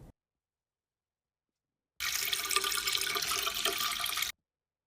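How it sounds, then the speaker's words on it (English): Dried beans for a 16-bean soup are rinsed under a running kitchen tap: a steady, fairly loud rush of water starts after two seconds of silence, runs for about two seconds, then stops abruptly. "I just rinse them off a few times like so and never had a problem."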